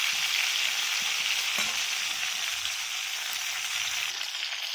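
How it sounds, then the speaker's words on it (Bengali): Cauliflower pieces coated with salt and turmeric frying in oil over a low flame, a steady close hiss and sizzle with faint crackles and an occasional stir. "ফুলকপিগুলো খুব সুন্দর ভাজা হবে"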